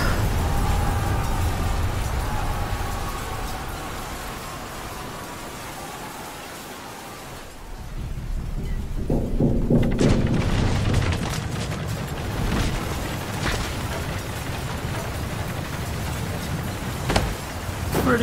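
A destructive main-cannon blast in Red vs. Blue, a deep rumbling boom that swells after a quiet lull, followed by crackling debris and a roaring aftermath without speech.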